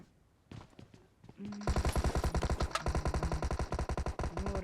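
Rapid automatic gunfire in a battle royale video game, a few scattered shots and then a long, loud stream of closely spaced bursts, with a voice speaking briefly near the start.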